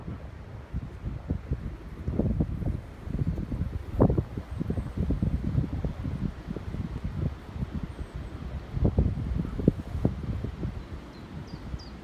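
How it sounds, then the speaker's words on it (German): Wind buffets the microphone in uneven low gusts for the whole stretch during a bike ride at the Barther Bodden lagoon, rising and falling without any voices. "Nur leider etwas windig"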